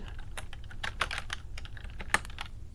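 Close computer-keyboard typing while entering HTML style code: quick, irregular keystrokes clatter in uneven bursts, with a couple of harder key hits, over a faint background hum and no speech.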